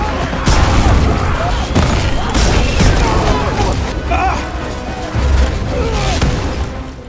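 Heavy booms and crashing blasts pile up in rapid succession, loud and chaotic, with bursts of rattling fire between them.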